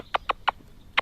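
A hen clucks in four short, sharp, close bursts in about a second as she is set down outdoors.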